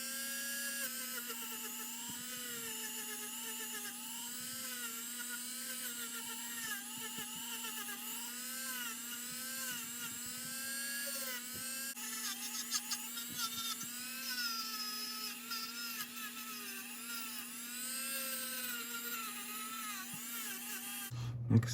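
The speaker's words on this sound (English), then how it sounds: "I've got a brass Dremel bit on here. I'm just going to clean up some of the bolts and screws." A Dremel rotary tool fitted with a brass brush bit cleans bolts and screws from a C1 Corvette clock, giving a continuous high-pitched whine that stays loud and steady for over twenty seconds before cutting off.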